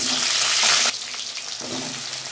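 Potatoes hit hot cumin-scented oil in a kadai, giving a loud, dense sizzle that fades to a steady softer frying hiss with faint stirring scrapes, for Bengali rui fish curry.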